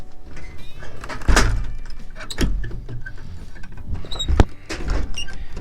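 An old sagging wooden door on a desert miner's cabin is moved, giving a series of sharp knocks, scrapes and rattles with faint creaks between them, close and fairly loud.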